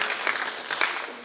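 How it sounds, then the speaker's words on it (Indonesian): Applause from an audience greets a visiting regent at an intercultural student camp, a quiet, steady patter of many hands that lasts throughout, somewhat distant with no clear voices over it. "Mari kita berikan tepuk tangan sekali lagi."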